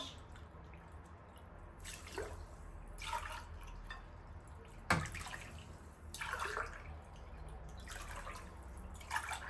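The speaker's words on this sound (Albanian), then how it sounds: "shtojna 4 gota me ujë, gota 200 ml." Water poured from a glass into a pot with sugar and vanilla for making syrup, several separate pours with dripping and splashing, close and without talk.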